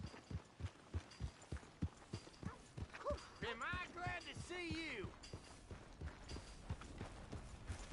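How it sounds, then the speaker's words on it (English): Horse hooves clip-clop in Red Dead Redemption 2, a steady run of soft regular thuds close by, heard under someone speaking briefly in the middle. "Hey! My horse!"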